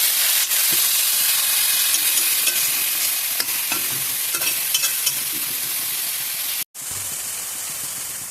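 Continuous stirring in a frying pan while chilli and shidal pakora ingredients cook, a steady broadband sizzle with faint spoon scrapes throughout and one brief dropout near the end.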